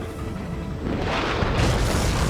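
Explosions rumble in the jet combat game Ace Combat 7: Skies Unknown, a dense, loud booming wash that grows heavier and brighter midway and keeps roaring to the end.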